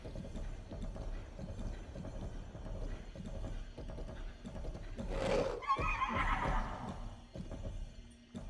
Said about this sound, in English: these are some of the first horses that you get an opportunity to ride with